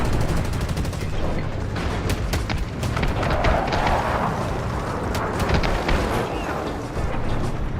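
Gunfire from the video game Delta Force: dense, sustained bursts of shots with sharp repeated cracks over a loud, continuous battle din, close and unbroken throughout.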